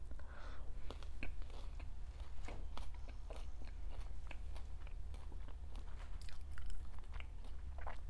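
Crisp crunching bites of a hash brown chewed up close, a steady run of crackly snaps over a low background hum, no talking.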